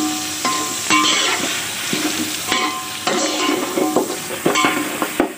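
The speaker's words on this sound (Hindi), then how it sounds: "लहसुन डाल के अच्छे से इसको भून लूंगी अब मैं" Meat and garlic frying in a pot while being stirred, a steady sizzle with repeated scraping and clinking of a spoon against the metal, close by and without talk.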